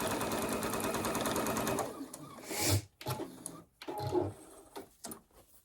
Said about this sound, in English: stop your needle right in that center seam allowance, and then straighten your straight edges and sew straight off